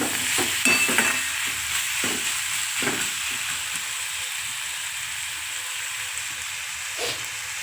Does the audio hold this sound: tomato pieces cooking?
yes